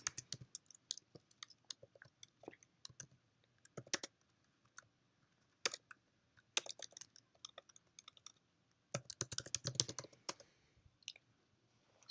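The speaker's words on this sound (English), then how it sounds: "So now if I go and type" Typing on a computer keyboard during a DevOps screencast, with irregular bursts of close, crisp key clicks separated by short pauses, and no talking.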